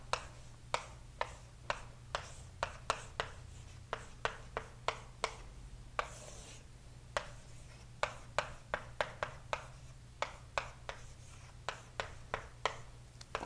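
Chalk or marker taps and short strokes on a board during a calculus lecture form a brisk, irregular run of sharp clicks, close and fairly quiet over a low steady room hum, with no voice.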